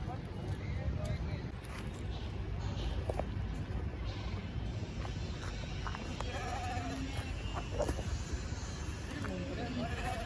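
A nomadic shepherd's flock of sheep penned and tied inside an enclosure, several bleats scattered over constant crowd noise, with people talking throughout.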